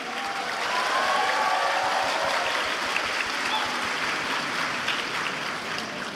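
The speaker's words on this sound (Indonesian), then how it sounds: "Baik, tepuk tangan." Sustained applause from a large audience at a university graduation ceremony, a dense, even wash of clapping that holds steady throughout, with faint crowd murmur underneath.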